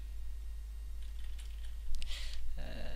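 Computer keyboard typing while setting up a Spring Boot application class, a few light clicks at first, then a denser burst of keystrokes near the end, fairly faint over a steady low hum.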